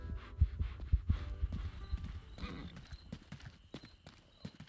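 Horse hooves clip-clop in a medieval video game, a run of close, uneven thuds that is strongest early and then thins into scattered knocks, with a faint hum underneath.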